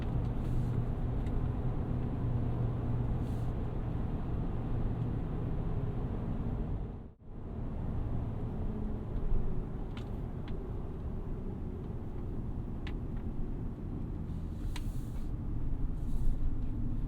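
A 2022 Chevrolet Silverado 1500 ZR2 pickup driving over bumps, heard as a steady low road and engine rumble from inside the cab with faint knocks and rattles, broken by a brief dropout midway.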